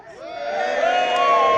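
A crowd at a Saxon battle reenactment in Winchester raises a swelling cheer that grows louder over a second and a half, with a few higher whoops on top.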